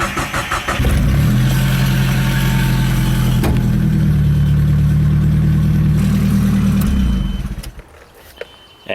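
A stick shift car with no exhaust cranks and fires up, then runs with a loud, raw, throbbing drone close by for several seconds before cutting off abruptly, leaving quiet.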